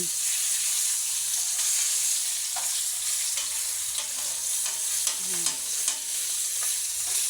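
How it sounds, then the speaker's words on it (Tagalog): Chicken frying in a pan with a steady, close, bright sizzle throughout, broken by a few soft clinks and stirring scrapes, and no talking. "Simpleng fried chicken."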